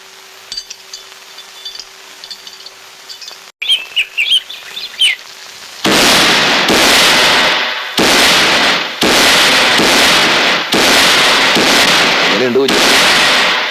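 After some quiet chirping, a rapid string of loud firecracker blasts erupts, sharp repeated bangs close by that continue back to back.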